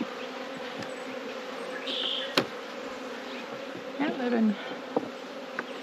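Honey bees buzz steadily around hive frames being handled, a constant close hum with a few brief louder passes and clicks, while a person speaks briefly.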